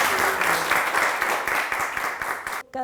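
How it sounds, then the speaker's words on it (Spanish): A crowd of schoolchildren applauds steadily and loudly for nearly three seconds at an author's talk, the clapping stopping abruptly at the end. "¡Ay, qué bien! ¿Cómo aplauden?"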